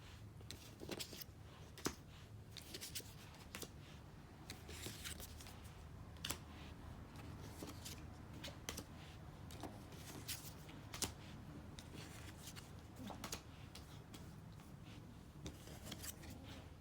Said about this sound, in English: So I'm just going to move the cards over.